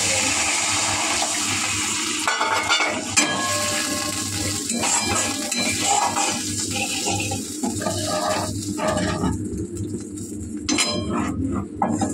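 A little water is splashed into a hot frying pan of fried ingredients, setting off a loud, continuous hissing sizzle with occasional clinks of metal against the pan.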